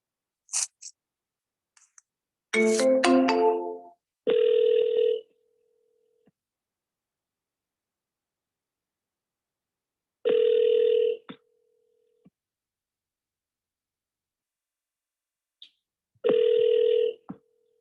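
An outgoing phone call ringing through a handset: an electronic chime-like tone first, then evenly spaced ringback tones repeating about every six seconds, clear and alone against silence.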